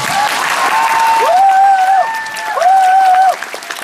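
At the closing performance of the musical Kinky Boots, the theater audience applauds loudly and continuously. Long, high, wavering whistles and cries ring out over the clapping.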